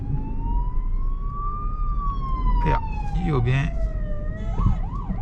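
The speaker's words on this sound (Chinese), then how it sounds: "一辆警车。" A police siren wails in a long rising and falling tone, loud and steady throughout, while a voice speaks briefly over it.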